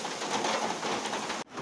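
A sudden August downpour falls outdoors as a steady, dense hiss that cuts off abruptly near the end.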